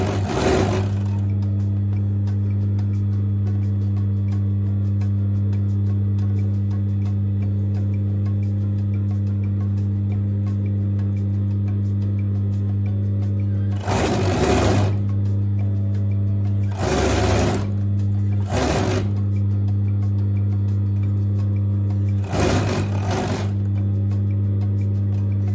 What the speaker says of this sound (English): So you're now sewing through 4 layers of